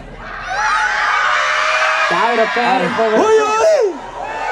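A live crowd at a concert in Huiscapi, Villarrica, in Chile's Araucanía region shouts and whoops loudly together, with a voice calling out rhythmic cries over the roar for a few seconds.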